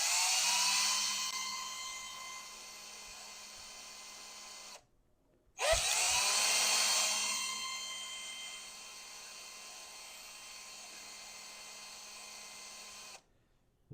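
A small drill bores 1/16 holes in a Small Block Chevy oil pump gear: a high whine that spins up and fades, stops briefly, then starts again for a second long run.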